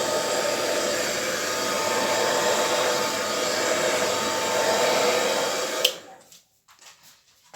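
An air blower roars steadily and loudly across acrylic paint in a Dutch pour, a continuous broad hiss that cuts off abruptly near the end, leaving near silence.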